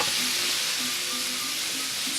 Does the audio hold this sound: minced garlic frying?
yes